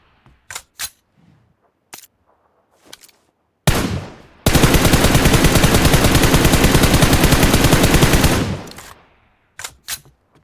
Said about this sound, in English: You can also practice your crouch shooting at 100 meter and 200 meters on these targets